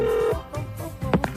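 Telephone dialing tones for a prank call on a radio show, beginning with a steady tone and followed by a short run of mixed beeps, fairly loud and clear with no talking.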